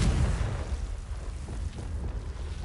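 Confringo fire spell exploding in Hogwarts Legacy, a deep, continuous rumbling boom with crackling texture that holds steady at moderate loudness for a few seconds, with no talk.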